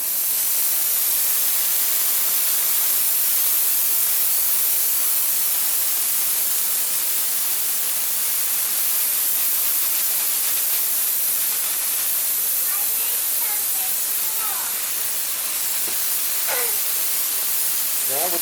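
An airbrush sprays Mr. Color Leveling Thinner primer onto a plastic model kit, giving a steady, close, continuous hiss that holds evenly throughout with no talk over it.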